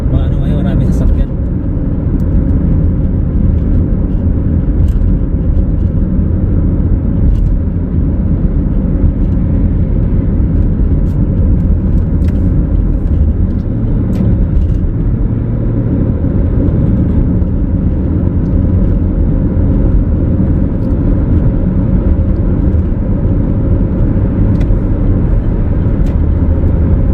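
Busy road traffic with cars and trucks on a Canadian road makes a loud, continuous engine rumble and tire roar that stays steady throughout.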